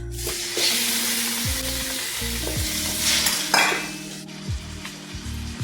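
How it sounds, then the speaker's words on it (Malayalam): Tomatoes sauté with turmeric in a pan for tomato rice, a steady close sizzle broken by repeated scraping strokes of a utensil against the pan, with no voices. "നന്നായി വഴണ്ട് തക്കാളി നന്നായി വേന്ത് ഉടയണം"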